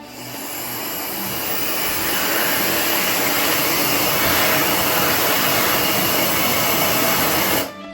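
A QUILO Home electric hand dryer blows a steady, loud rushing stream of air that runs continuously from start to finish and then cuts off abruptly.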